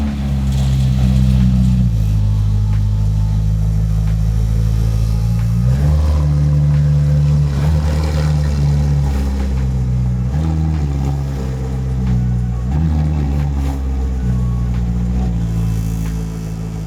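A McLaren Sabre supercar driving, a loud close engine drone with pitch rising and falling through gear changes and accelerations, steady and sustained.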